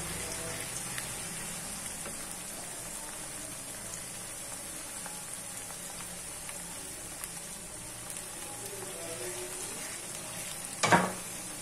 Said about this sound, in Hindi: हमारी ये लहसुन अदरक की भुनाई हो रही है